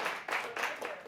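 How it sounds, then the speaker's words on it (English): An audience at a stand-up comedy show claps for visitors from Miami, a short ripple of scattered applause rising and falling in quick waves, moderately loud. "Clap it up for Miami,"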